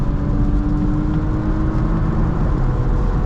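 A Porsche Macan S engine drones at steady high revs after a downshift, a loud, dense mid-range hum with constant road and cabin noise and no break in level.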